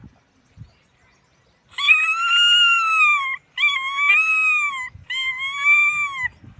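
A person imitates a peacock's call: three long, loud, wailing cries with brief pauses between them, in an otherwise quiet setting.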